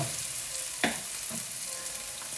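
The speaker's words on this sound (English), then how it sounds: "Drizzle of oil and stir in shallot and ginger." Shallot and ginger stir-fried in oil give a steady crackling sizzle with a couple of scraping stirs, close and moderately quiet, with no voices.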